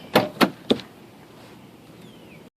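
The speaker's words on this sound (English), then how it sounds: "now I'm going to open the door." Three quick mechanical clunks of a 2005-2010 Ford Mustang car door latch as the door opens, followed by a soft hiss and quiet background.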